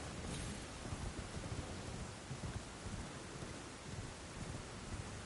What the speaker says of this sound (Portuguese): Tá chovendo aqui?